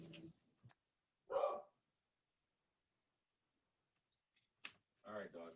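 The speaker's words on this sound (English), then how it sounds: "oh, there's the dog" A dog barks outside in a few short, distant bursts separated by silence, with someone speaking nearby.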